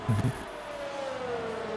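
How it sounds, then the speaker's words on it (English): A pit siren in an F1 racing video game sounds as a steady, slightly falling wail that runs throughout at moderate level, briefly overlapped by a short voice burst at the start. "Siren."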